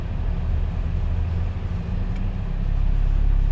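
A Porsche Cayman GTS makes a hard U-turn, its engine a close, steady low rumble from inside the car that grows slightly louder toward the end.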